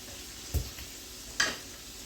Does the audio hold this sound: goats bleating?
no